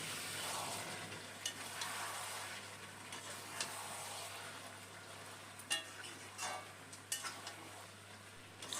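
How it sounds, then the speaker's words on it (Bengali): Goat mutton stir-fried over a high flame in a pan, a soft continuous sizzle broken by scraping strokes and occasional light clinks of the spatula, heard close and fairly quiet. "একটু সময় নিয়ে মাংসটা কষাবো খাসির মাংসটা যত কষানো হবে খেতে ভালো লাগবে"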